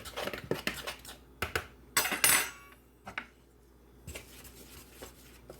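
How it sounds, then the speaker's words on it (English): Spoon clinking and scraping against a mixing bowl while stirring pumpkin roll batter with baking powder and cinnamon, a series of close, irregular knocks with short pauses and no talking. "We'll give it a good stir,"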